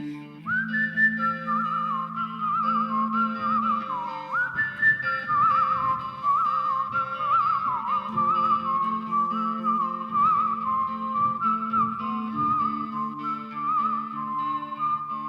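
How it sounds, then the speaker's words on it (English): A person whistling a song, a clear, sustained melodic tune with gliding pitches and short pauses between phrases, close and alone throughout. "My grandpa taught me how to whistle when I was 5 years old."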